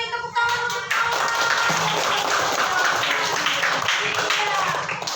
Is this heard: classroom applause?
yes